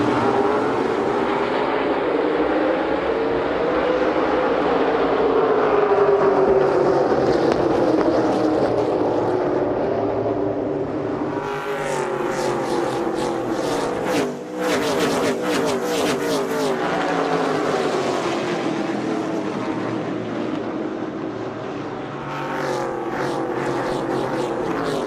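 SRX race cars roar off at the start of a heat race at Lucas Oil Raceway in Indianapolis, a dense, loud engine drone with shifting pitch as cars pass, joined by sharp, rasping surges midway.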